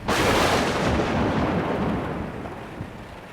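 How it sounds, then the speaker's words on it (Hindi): A cartoon-style lightning strike and thunderclap close by during a violent storm, one loud sudden crack that swells into a broad rumble and slowly fades over a few seconds. "उसी वक्त कहीं बहुत ही नज़दीक बिजली आकर गिरी।"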